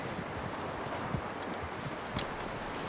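Horse hooves clop at a walk in the video game Red Dead Redemption 2, soft repeated steps under a dense, steady outdoor ambience of wind and rustling.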